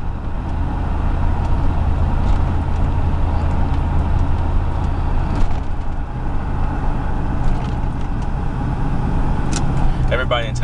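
Car engine and exhaust pipes drone steadily from inside the moving vehicle, a loud continuous low rumble throughout with some rattling near the end.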